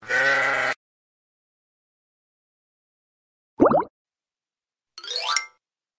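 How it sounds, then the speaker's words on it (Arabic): One short, wavering sheep bleat up close, then silence and two brief playful plop and chime sound effects. "خروف"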